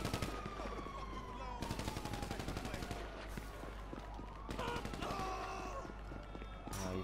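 Rapid AK assault rifle fire in GTA V Online, bursts of sharp, loud shots crackling in quick succession while a police siren wails and rises in pitch across the scene.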